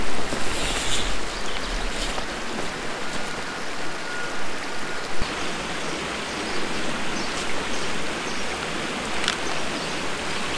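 A small creek along a river trail in Sturt Gorge flows in a continuous rushing wash, steady and fairly close, with a few faint clicks and knocks over it and no voices.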